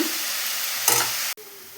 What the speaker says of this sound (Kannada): ಕರಿಬೇವಿನ ಸೊಪ್ಪು, ರುಚಿಗೆ ತಕ್ಕಷ್ಟು ಉಪ್ಪು, ಬೆಳ್ಳುಳ್ಳಿ ಹಾಕಿ ಚೆನ್ನಾಗಿ ಫ್ರೈ ಮಾಡ್ಕೊಳ್ಳೋಣ.